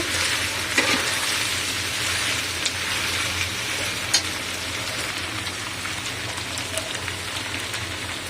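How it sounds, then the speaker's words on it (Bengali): Potatoes frying in hot oil in a kadai, with a steady dense sizzle and a few sharp pops and crackles. It carries on close and fairly loud without any voices. "কড়াই আলু তেলের ওপরে দিয়ে একটু কষা হচ্ছে"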